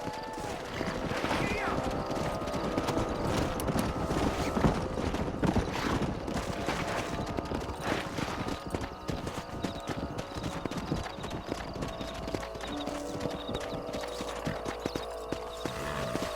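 Horses gallop in a video game, with rapid, continuous clip-clop hoofbeats running throughout, layered over game sounds and a neigh, while voices talk at times.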